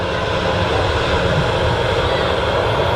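A Ryanair airliner departing Manchester Airport for Tenerife gives a loud, steady, broadband jet engine roar with a low rumble, holding constant throughout with no voices.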